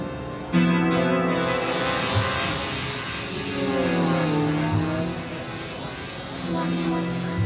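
Elektron Digitone FM synthesizer sustains buzzy, rough tones with shifting feedback modulation, filtering and pitch-bent notes trailed by delay, moderately loud at a NAMM 2018 demo, with speech mixed in.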